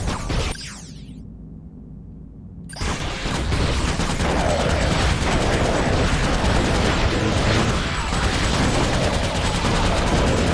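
Turret gunfire from Ratchet: Deadlocked, rapid and dense, erupts after a brief quieter stretch and then pounds continuously and loudly with explosive bursts layered in.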